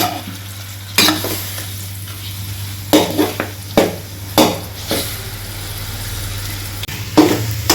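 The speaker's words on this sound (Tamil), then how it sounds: "இப்போ நம்ம சிக்கனை சேர்த்துட்டோம். இது ஒரு 2 நிமிஷம் அப்படியே ஃப்ரை பண்ணிக்கணும்" Chicken pieces fry and sizzle loudly in a pan for a Tamil chicken curry, the steady hiss broken by several clattering stirs of a spoon against the pan, with no speech.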